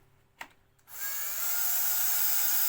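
A power tool loosens T40 Torx screws on a motorcycle grab rail, starting after a brief click and then running as a steady, continuous whine close up.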